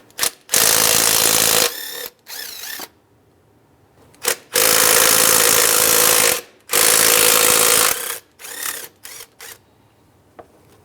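A ratchet wrench works 10 mm bolts off a bracket on a 2003-2011 Honda Element, loud dense bursts of ratcheting repeated several times with short pauses between them.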